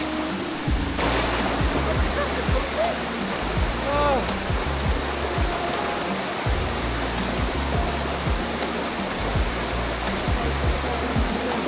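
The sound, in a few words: waterfall in the jungle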